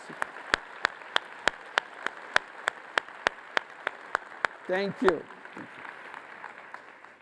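Audience members clap at a lecture on eradicating poverty, producing a distinct, evenly spaced run of sharp claps in a near-regular rhythm. A voice briefly speaks over it as the clapping fades out.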